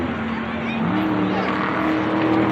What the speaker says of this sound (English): This is Tristan, aka Baby KS, revving the Charger RT.